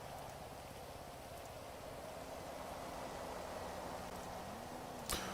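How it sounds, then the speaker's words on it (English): Steady rain falls in a game set in California, a constant soft hiss with a faint low hum underneath and one brief click near the end, with no voices. "it is raining in sunny California again"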